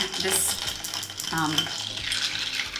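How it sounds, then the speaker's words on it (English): A spoon stirs coffee in a canister cup, a close clinking and swishing with short bursts of scraping that run steadily through the moment without any talk. "now I'm going to get a spoon and we're going to stir this up"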